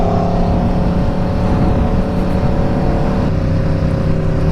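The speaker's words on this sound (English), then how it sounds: "Look, I'm on fourth gear and the bike still pulls very easy." Aprilia RSV4 motorcycle with an upgraded 520 chain and sprocket pulling easily in fourth gear on the road, a loud continuous engine drone with a steady tone and constant wind rush, no talking.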